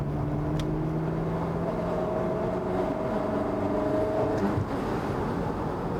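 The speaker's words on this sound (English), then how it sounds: "I'm going to floor the throttle now. And it's off." A Ferrari 360 Spider in fifth gear at about 25 mph, floored from 1200 RPM: a steady, loud engine drone with rising harmonic tones as it pulls, heard from inside the car without talk.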